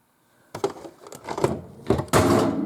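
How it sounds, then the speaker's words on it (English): A Bosch SHU42L dishwasher door is opened up close, making a quick series of clunks, rattles and scrapes that end in a louder metallic thud. "So now I'm going to open the door and pull it out from the other side."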